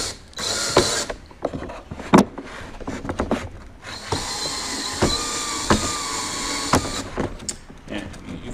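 A power drill drives a screw into an interior trim panel of a 2016 Toyota Tacoma, the bit slipping in bursts of whirring and ratcheting clicks, close and fairly loud with no voices.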